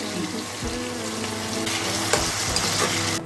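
Chopped onion with dry red chillies, black cumin seed and salt frying in hot oil in a pan, a continuous loud sizzle with scraping stirs and a few sharper clatters, no talking.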